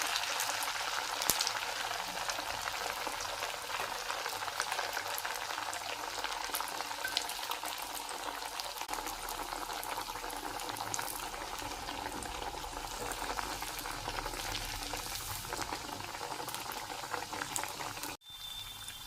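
Sabudana vada deep fry in peanut oil with a dense, steady bubbling roar that runs unbroken and close, briefly dipping near the end, with no talking.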